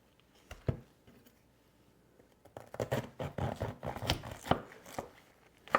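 A sharp knife cuts a cabbage in half, first with a few soft taps and then a dense run of crunchy, crackling slices and thuds as the blade pushes through. It sounds close-up, with no voices.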